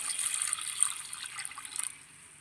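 Salted vajram fish being rinsed clean under running water, a steady splashing trickle from a tap into a sink, close and moderately loud, easing off near the end with no talking.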